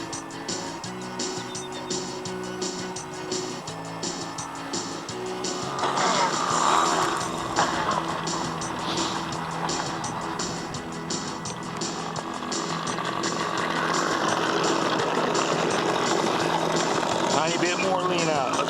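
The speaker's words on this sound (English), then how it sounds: "I'm purposely running this new OS46AX engine sloppy rich just to break it in on this first flight" A new OS 46AX nitro engine on a model aircraft (an antique Simitar 540 flying wing), deliberately running sloppy rich for break-in, drones steadily in flight at moderate distance and swells louder in the second half.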